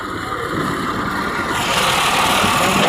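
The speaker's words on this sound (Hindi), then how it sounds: "और देखिए ट्रैक्टर ट्राली आ रही है" A tractor pulling a trolley approaches along a rural village road in the evening, its engine rumble steadily growing louder and nearer over about three seconds, with no voices.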